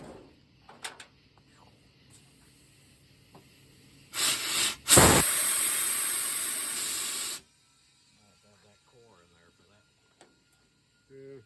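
Compressed air on a trash truck hisses loudly from an air nozzle in two bursts, a short one and then a longer sustained blast lasting a few seconds. Quieter mechanical noises come before and after.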